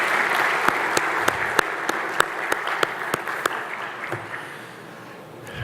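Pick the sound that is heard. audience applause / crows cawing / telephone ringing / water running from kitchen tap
audience applause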